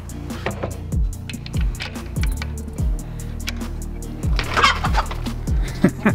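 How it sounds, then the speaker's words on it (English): Several backyard chickens cluck close by in short repeated bursts, with an occasional sharper squawk among them. "That's my backyard chickens."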